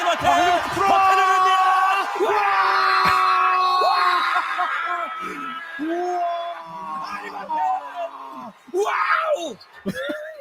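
A stadium crowd screams and roars continuously during a Korean-language baseball broadcast call, loud and sustained, with an excited announcer's voice shouting over the din.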